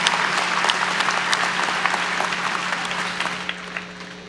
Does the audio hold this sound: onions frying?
no